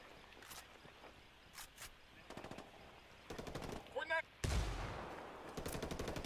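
Bursts of automatic machine gun fire in a video game come in short volleys at medium distance, mixed with other game sounds, as voices call out over the action.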